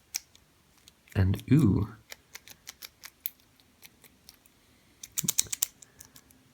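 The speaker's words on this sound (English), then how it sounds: "Here's the key we cut. Put it in the lock." A freshly cut homemade key slides into a lock, giving a scatter of small, sharp metallic clicks and ticks spread across the moment, with a short burst of a voice speaking partway through and again near the end.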